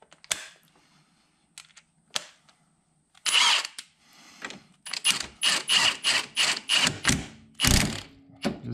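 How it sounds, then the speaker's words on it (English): An impact wrench tapping a bolt on a 2011 Yamaha Apex snowmobile during a track change: a few scattered clicks, then a run of short, close, sharp rattling bursts in quick succession. "what I like to do is just tap it in with the impact"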